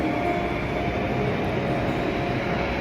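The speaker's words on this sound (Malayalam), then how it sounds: "ഇതാണ് ഡൽഹി മെട്രോയിലെ ഒരു സ്റ്റേഷൻ. ഭൂമിക്കടിയിൽ കൂടെ ട്രെയിൻ പോകും." Delhi Metro train in an underground station, a steady loud rumble of rolling wagons echoing along the platform, continuous throughout with no voices.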